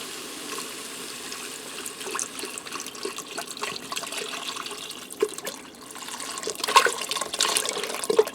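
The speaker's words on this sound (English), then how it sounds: "Now I'm going to add in 4 cups of vegetable broth." Vegetable broth poured into a pressure cooker for a copycat gnocchi soup, a steady close liquid pour and splash that swells toward the end, heard alone without talk.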